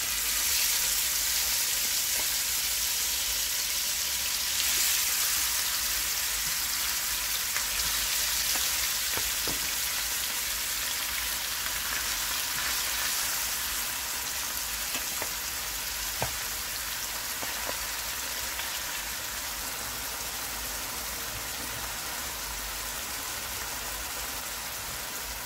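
Seasoned coco belly fish frying in a pan, giving a steady, even sizzle throughout with faint crackles and occasional small pops, no voices.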